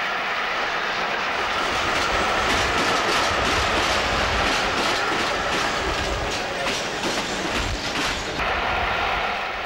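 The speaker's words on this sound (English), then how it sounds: "Another Class 302 speeds past West Ham Underground Station in the days before an interchange platform was provided" A Class 302 electric train speeds past West Ham Underground Station, a loud sustained rumble with rhythmic wheel clatter over rail joints throughout.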